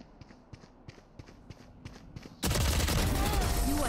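Rapid gunfire from a weapon in an Among Us live stream game, first a series of separate sharp shots with quiet gaps, then a sudden loud sustained burst of continuous firing and explosions to the end.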